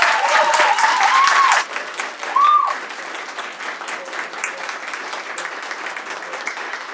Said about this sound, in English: if you would absolutely give them a round of applause.